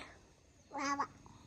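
A single short meow from a cat at home, fairly close and clear against a quiet background.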